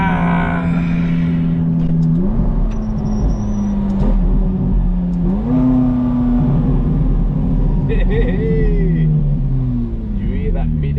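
A car with a mid-engine V8 revs loudly and close by, the engine note climbing and dropping through several gear changes. A voice talks over part of it.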